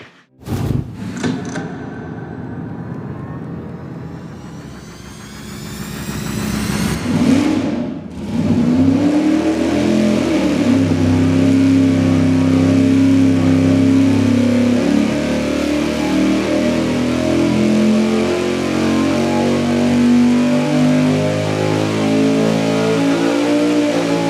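A big-inch big block engine on a dyno starts up, revs hard through a rising sweep, then holds a loud, sustained roar at high load while testing intake manifolds.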